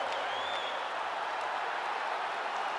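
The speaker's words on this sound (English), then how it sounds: "So the crowd voicing its appreciation after that round." Crowd applause fills a virtual arena between rounds of a UFC 5 mixed martial arts fight, a dense steady wash of clapping and crowd noise, moderately loud and continuous throughout.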